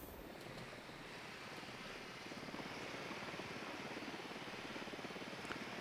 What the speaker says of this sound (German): Ich guck mir das mit einer Drohne an.